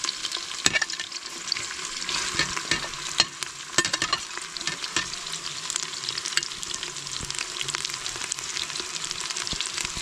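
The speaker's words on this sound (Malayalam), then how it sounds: "സവാള നന്നായിട്ട് വഴറ്റിയെടുക്കണം കേട്ടോ" Five sliced onions sauté in hot oil for a Kerala-style mutton biriyani, a steady close sizzle broken by regular scrapes and clacks of a spoon stirring through the pan, with no voices.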